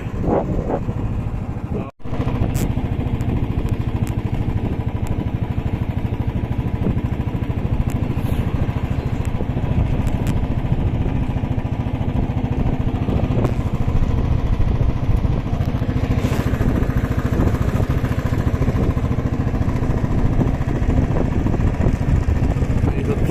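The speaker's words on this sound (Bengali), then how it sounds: "বাইক চালাতে চালাতে এক হাতে এই রেকর্ডিং করছি" A motorcycle is ridden through dense fog, recorded one-handed by the rider. The engine gives a continuous close rumble mixed with wind rush, steady throughout after a brief dip early on.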